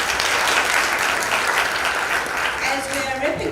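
An audience at a G20 symposium gives a sustained round of applause, dense and steady throughout, with a voice briefly audible near the end.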